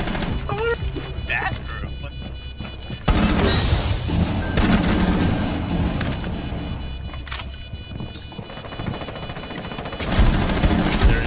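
Gunfire in the Breachers video game crackles in rapid bursts, loud and up close, with sharp onsets and long rattling stretches while players talk over it.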